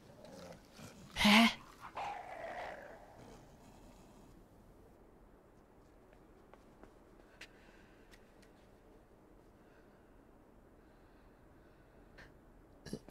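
A dog in the video game Inside lets out one short, sharp loud bark-like growl near the start, followed by quieter rumbling and then a long stretch of faint background ambience.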